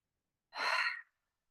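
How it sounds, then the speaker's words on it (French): A single slow, breathy exhale of a yoga breathing exercise, breath drawn in through the nose and blown out through the mouth, close and soft, lasting about half a second alone in quiet. "on inspire par le nez et on souffle par la bouche."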